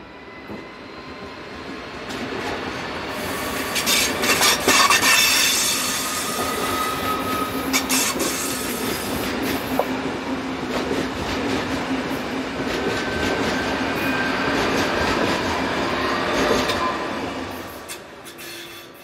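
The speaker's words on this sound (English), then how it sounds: "ETR 610 Cisalpino train set, number 610110, departs with the 1228 from Basel to Milano." An ETR 610 Cisalpino train set pulls away from Basel on a service to Milano: a steady, loud rumble of railcars with wheel noise and some squealing runs throughout, and no voices are heard.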